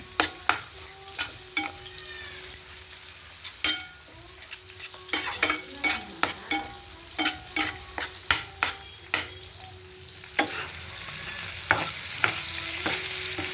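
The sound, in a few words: frying vegetables with salt, turmeric and chili powder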